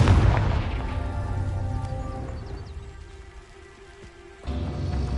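A Confringo fire spell in Hogwarts Legacy sets off a loud, deep booming blast up close, then a rumbling fiery tail that fades, followed by a second heavy impact near the end.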